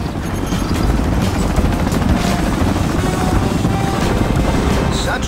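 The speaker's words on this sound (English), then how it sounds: "Such range, speed, and accuracy on that helicopter." A helicopter in the mobile spy game Agent Intercept, its dense rotor thump and engine roar loud and steady throughout, close by with a constant wash of noise.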